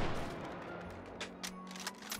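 Gunfire in the VR shooter Hot Dogs, Horseshoes & Hand Grenades: one heavy blast with a long fading tail, then a few sharper shots at uneven intervals, no voices.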